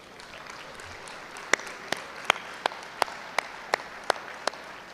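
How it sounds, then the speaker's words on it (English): Conference audience at a sustainability awards ceremony applauding, a soft bed of clapping with a series of sharp, close individual claps spaced through it, about a dozen, roughly steady in rhythm. "Please give yourselves a round of applause."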